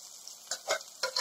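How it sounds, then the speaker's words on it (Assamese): Masala for a dhaba-style moong dal tadka fries in oil, with a soft sizzle and a few short scrapes of stirring over a brief moment. "এইখিনি মই ভালকৈ এতিয়া ভাজি লৈছোঁ ভজা হৈ গৈছে তেল ওলাইছে"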